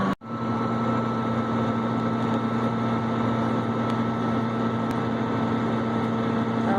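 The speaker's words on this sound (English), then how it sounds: "He's driving a 7120 Case International with the 566 John Deere baler." Case International 7120 tractor pulling a John Deere 566 baler through cornstalks, a steady loud engine drone with a strong low hum that holds evenly throughout after a brief dip at the start.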